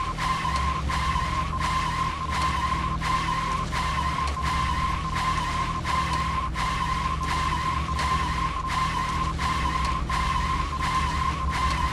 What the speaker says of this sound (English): Is the car supposed to make this noise?